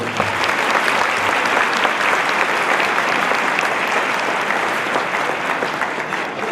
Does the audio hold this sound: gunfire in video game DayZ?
no